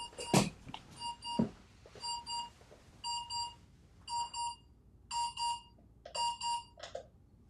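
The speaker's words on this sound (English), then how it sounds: "My alarm is going off." An alarm sounds in a meeting room in short bursts of beeping, about eight clusters in a steady repeating rhythm, clear but moderately quiet, with a couple of brief thumps near the start.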